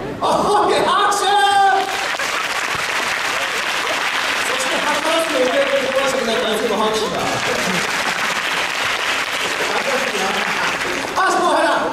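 An audience at a live rock-and-roll show of monster characters breaks into loud, sustained applause and cheering, with a performer talking over the crowd.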